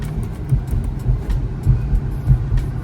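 An Infiniti Q50 driving at night, a steady low engine and road rumble from inside the cabin with gentle rises and falls, moderately loud and continuous, no voices over it.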